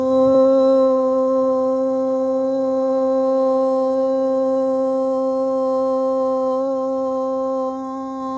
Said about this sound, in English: We'll open up our class with the sound of Om